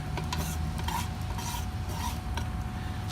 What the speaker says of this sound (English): all I'm doing right now is just kind of sloshing it around the sides to help make sure I've got the sides well oiled